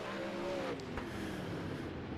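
Engines of 360 sprint cars at Knoxville in a racing sim rumble and whine faintly as the cars roll onto the front stretch, a low steady drone with a brief tire squeal, no talk.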